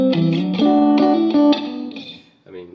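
Fender electric guitar played into a Fender-style amp through a reverb pedal on its spring setting: a short phrase of clear, sustained notes with a wet, splashy tail that fades out, then a final plucked note.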